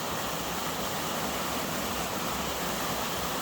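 Constant broadband rush of the Salerilla waterfall on the Omino river in the Alfoz area, a full, even roar with no talking over it.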